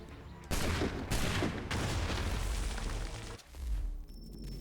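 Loud volley of gunfire from Assassin's Creed 3, a dense fusillade of overlapping shots rolling into heavy booms for several seconds, then a brief lull and a final burst, with no talk over it.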